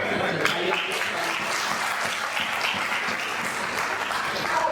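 An audience at a Mandal Day gathering on caste census claps steadily, a dense, even applause running the whole length at moderate loudness.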